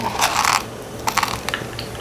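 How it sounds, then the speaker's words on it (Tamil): Mustard seeds, urad dal and curry leaves in hot tempering oil for chutney, giving close crackling and popping with irregular sharp bursts over a steady low sizzle. "கடுகு உளுத்தம்பருப்பு க கருவேப்பிலெல்லாம் போட்டு வந்து நம்ம தாளிச்சிக்கலாம்"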